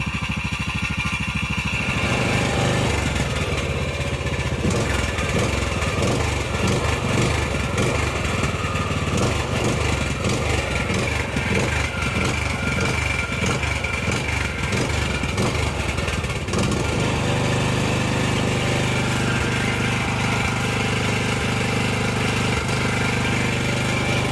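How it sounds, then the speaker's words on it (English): A Husqvarna LTH 18538 lawn tractor engine runs loud and steady throughout, its loose muffler adding a fast metallic rattle that pulses for much of the run before the engine settles into a smoother drone. "That rattling is just the muffler."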